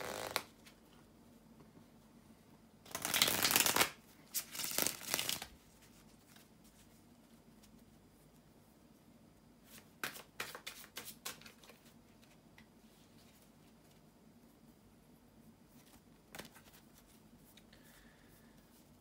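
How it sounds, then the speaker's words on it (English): Tarot cards shuffled by hand in a quiet room, with a loud riffling burst around three seconds, a few softer flicks after it, and later scattered light card taps against faint background hiss. "bear with me a second, guys, to shuffle the tarot cards"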